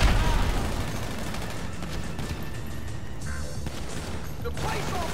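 Rapid gunfire crackles through a tense shootout in Grand Theft Auto V, one sharp burst at the start followed by a continuous roar of shots and crashes, with voices faintly mixed into the chaos.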